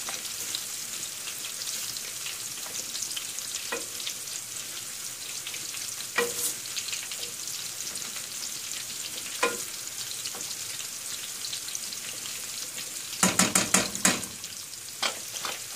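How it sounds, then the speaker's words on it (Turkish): Karnıyarık filling of chopped tomatoes and tomato paste sizzles and fries in a pan, a steady soft crackle broken by occasional scraping stirs and a cluster of sharper clatters near the end, with no talking. "Karıştırdıktan sonra tekrar pişmeye bırakıyorum."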